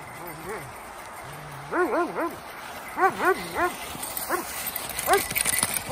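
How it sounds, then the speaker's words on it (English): A dog gives a run of short, yodeling barks and howls in several bursts, fairly close, with a quiet background. "It's gonna be a awful day when I don't hear that bark."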